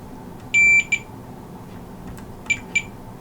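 Multimeter continuity beeps while checking a faulty PS5 circuit board for a short, with one sustained tone followed by several short, sharp beeps, loud and close over a quiet background.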